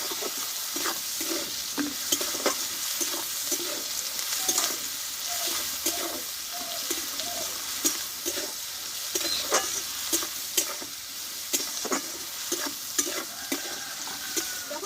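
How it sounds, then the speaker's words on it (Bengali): Onions half-fried in a pan for a spring onion stalk dish, giving a steady broadband sizzle with repeated soft scraping stir strokes at a fairly even rhythm, close and alone without talk. "পেঁয়াজটা অর্ধেকটা ভেজে নিয়েছি"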